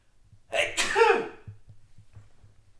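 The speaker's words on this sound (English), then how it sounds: "Hold on, I might sneeze." A single loud sneeze with a sharp inhale and burst, followed by quiet low background hum.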